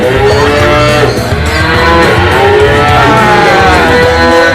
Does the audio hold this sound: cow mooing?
yes